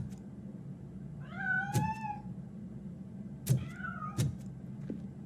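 A cat in the video game Robocop: Rogue City gives two drawn-out meows over a low steady background hum, the second call shorter, with a few dull knocks scattered around them.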